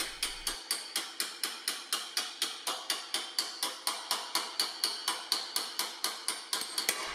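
A planishing hammer, with the weight of its own head driving each blow, strikes sheet metal in a fast steady rhythm of sharp, bright metallic taps, roughly four per second, close and with no voices.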